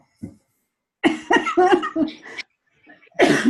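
Close, harsh coughing: one quick cough, then a rapid burst of several chesty coughs, a pause, and another strong cough at the end.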